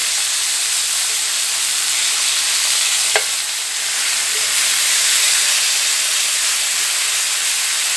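Garlic butter pork chops sizzle hard in a cast iron skillet after being flipped, a loud, steady, close hiss of frying fat with one faint tick partway through and no voices.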